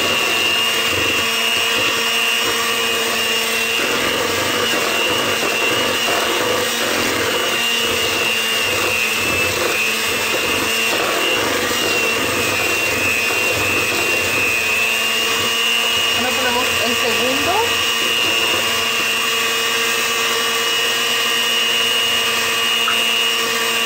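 An electric mixer beats eggs into apple cinnamon cake batter, a steady, loud motor whine running without a break, with faint rattling against the bowl.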